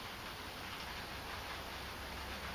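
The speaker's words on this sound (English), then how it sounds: "it's raining right now" Rain falling outside a metalworking studio makes a steady, even hiss throughout, soft and continuous with no voices.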